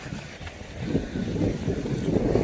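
Strong wind roars by the water at a boat crossing, a steady low buffeting rush against the microphone with gusts that swell slightly louder toward the end, and no voices.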